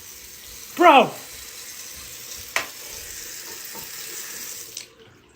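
Bathroom water taps run on their own, a steady rushing stream of water with a short sharp tone early on and a couple of clicks before it cuts off abruptly.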